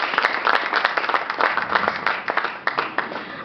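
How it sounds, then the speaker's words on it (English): An audience at a taxation and business conference panel in Abuja applauds, a dense, lively burst of many hands clapping at once that stays loud and fairly steady for a few seconds. "A round of applause, please."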